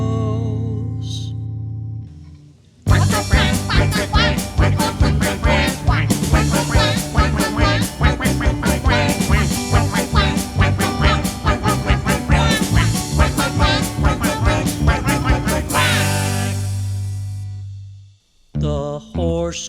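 A duck quacks in a rapid, steady run of loud calls with an electronic, effected quality over a rhythmic musical bed, part of a children's farm-animal song, after a brief quiet lead-in.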